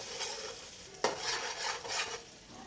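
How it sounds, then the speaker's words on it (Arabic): A large spoonful of garlic fries in oil and ghee in a pan, hissing with a steady sizzle, with a sharp utensil clink and scraping stirs nearby. "هحط معلقه ثوم كبيره. اقليها بقى."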